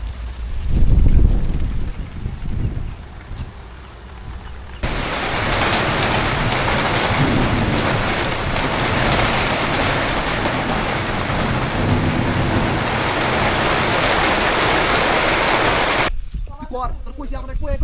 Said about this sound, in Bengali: কি পরিমাণ বৃষ্টি আছে দেখ দেখ দেখ